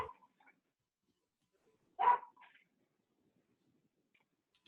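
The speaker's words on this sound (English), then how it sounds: "You hear a dog." A dog barks twice in the distance, a short double bark standing out alone against near silence during a city commission meeting.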